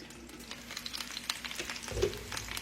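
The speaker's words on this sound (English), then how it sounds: "That's that juice from the onion and the potato getting down in there." Onion and potato juices sizzle in a skillet of smothered fried potatoes over low heat, a soft, steady crackle with faint pops, close and alone with no talking.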